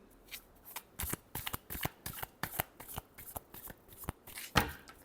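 Tarot cards being shuffled by hand up close, a quick run of repeated papery riffles and slaps in an uneven rhythm, with no talking.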